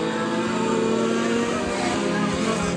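A pack of five compact mini stock race cars drones together at a dirt oval speedway before a heat race, a steady engine roar heard from a distance.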